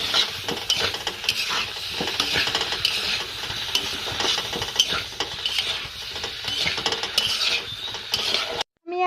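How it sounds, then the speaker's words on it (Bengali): A spatula scrapes and stirs a vegetable curry in a pan, with repeated close scraping strokes over a soft sizzle and occasional clinks of metal on the pan. "চলো এখন খুন্তি দিয়ে নাড়িয়ে চাড়িয়ে মিশিয়ে নিই"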